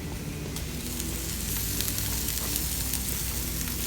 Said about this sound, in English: add a little bit of that red onion to the pan as well. Let that saute for a second